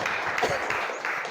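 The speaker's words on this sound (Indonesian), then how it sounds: "Tepuk tangan untuk kelompok 3." Brief classroom applause for a student group, a short burst of dense clapping from a seated class, fairly close and steady for about a second.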